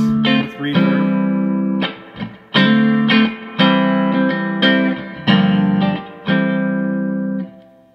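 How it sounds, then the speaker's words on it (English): Clean electric guitar with split pickups through a Boss digital reverb pedal, playing chords and picked notes with a spacious reverb tail, several strummed phrases separated by short gaps, loud and up close. "Splitting the pickups with reverb."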